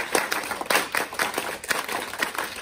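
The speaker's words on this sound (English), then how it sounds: "In the morning on game day, students fill in the B Wing Hall and do the Eagle Clap." Students crowded into a school hallway on game day perform a rhythmic group clap, sharp hand claps landing in quick, repeated bursts that echo loudly off the walls.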